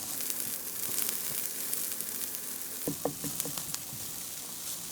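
Onions caramelizing in extra virgin olive oil with a little sugar give a steady close sizzle, with soft stirring scrapes and taps breaking in over the second half.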